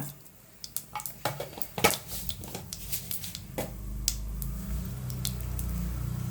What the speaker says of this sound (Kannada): ಅದು ಆಯಿಲ್ ಹೀಟಾಗಿದೆ, ಸಾಸಿವೆ ಹಾಕೋಣ.